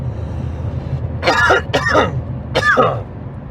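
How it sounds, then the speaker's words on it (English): Three harsh coughs close to the microphone inside a car, two in quick succession and then one more after a short pause, over a low background hum. "Coughing in your guys' ear, I'm sorry."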